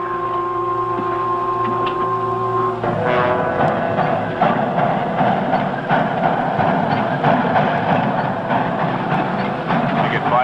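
A train engine runs steadily along railroad track, in a 1953 film, with a sustained rumbling mechanical roar throughout and a shift in tone a few seconds in.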